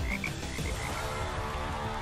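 A frog croaks as a sound effect: a dense, steady raspy croaking that fills the whole stretch at an even, fairly loud level, with a few higher chirping notes early on.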